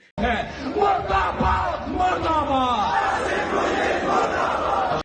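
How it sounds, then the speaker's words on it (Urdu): A large crowd in Pakistan shouts political slogans in rhythmic, massed voices, loud and close, a chant rising and carrying on without pause. "یہ نعرے پرشگاف نعرے ہیں، آپ یہ سن سکتے ہیں نعرے"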